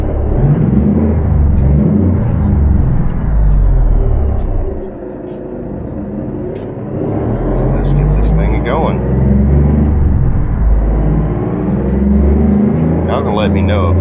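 An Autocar truck engine starts, rumbling and whirring steadily nearby, dipping briefly before revving back up, with a person talking over it.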